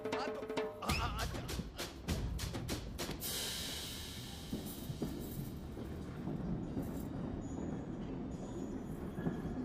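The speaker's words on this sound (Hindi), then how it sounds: "मेरी ट्रेन छूटी जा रही है" A train pulling out of a station, a burst of sharp clattering impacts at first, then a sustained rolling rumble with wheel squeal and hiss, fairly loud and continuous, no clear voices.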